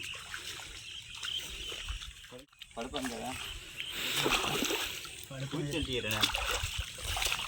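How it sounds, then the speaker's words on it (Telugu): Kappa (cassava) tubers being washed by hand in water, with steady splashing and trickling close by, a voice speaking over the sloshing. "ఇవి ముందుగా వీటిని నీట్గా శుభ్రంగా కడుక్కుందాం"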